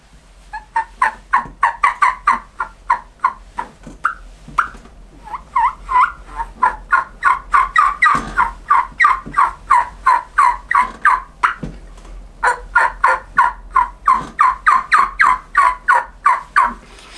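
A diaphragm mouth call imitates a hen turkey's soft calling: a long run of quick, evenly spaced yelps that rise and fall in pitch, loud and close, with short pauses between bursts.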